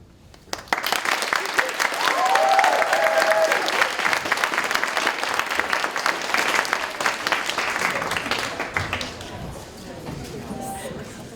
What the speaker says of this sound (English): Was that SBA who was clapping during that thing?